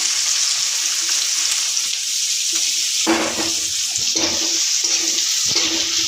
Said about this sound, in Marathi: कांदा लालसर भाजून घ्यायचा आहे